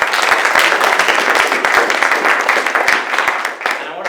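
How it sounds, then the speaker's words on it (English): Audience applause fills an event hall, a dense, steady wash of many hands clapping close and loud throughout, tapering slightly near the end. "Let's give them a round of applause."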